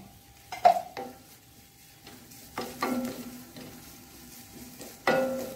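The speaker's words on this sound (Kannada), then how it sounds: "ಎಲ್ಲವನ್ನು ನಾವೀಗ ಇದರಲ್ಲಿ ಒಳ್ಳೆ ಫ್ರೈ ಮಾಡ್ಕೊಳ್ಳೋಣ." Cashew nuts fry in ghee for a carrot payasa while a spoon stirs them, giving a soft sizzle broken by a few clinks of the spoon against the pan, close and fairly quiet, with no voice.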